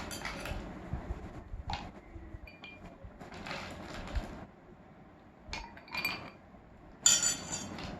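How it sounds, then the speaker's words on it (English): Ice cubes dropped into a glass, giving several separate bright clinks and clatters in short bursts, close and fairly quiet, with quiet pauses between them. "these are the ice cubes. Now I'm gonna put some of this in the glass."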